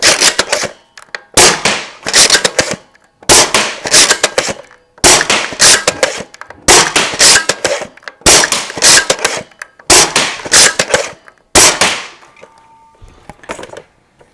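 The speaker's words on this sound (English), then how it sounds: "we'll shoot it down one of our hulls and see just how it performs" A 3D-printed Caliburn Nerf blaster with a 14-inch barrel fires darts in repeated loud bursts, each a sharp crack followed by rattling mechanical noise, about eight shots spaced roughly every one and a half seconds.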